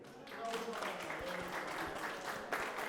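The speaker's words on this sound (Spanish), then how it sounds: "les pido un aplauso para Carabelli." An audience at a cultural gathering about a typical Colombian orchestra applauds in a continuous, fairly faint wash of clapping that swells briefly near the end.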